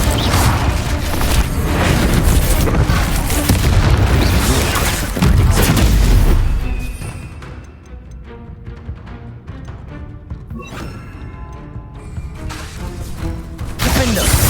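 An Incendio fire spell in Hogwarts Legacy erupts in a long, loud roaring blast for about six seconds. It then drops to quieter crackling, thumping combat noise and swells again at the end.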